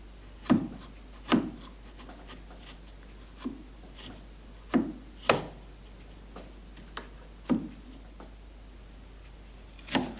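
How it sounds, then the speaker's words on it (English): A sharp chisel pares thin wafers from a wooden workpiece, a series of about ten short scraping strokes with quiet gaps between them, close and fairly faint, no voices. "Try not to let the chisel dig into the wood too deep."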